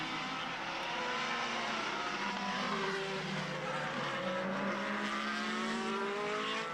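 Formula BOSS race cars roar down the straight at a round in Ireland, a loud continuous engine drone with rising and falling pitch sweeps as cars pass, with no talking.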